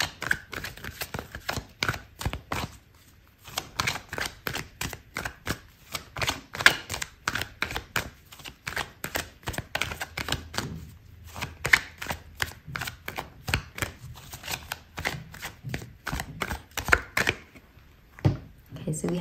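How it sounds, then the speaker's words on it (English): Tarot cards are shuffled and drawn during a reading, a rapid run of dry riffling clicks and snaps in bursts with short pauses, heard close up while a person speaks. "I'm gonna pull out another card for you."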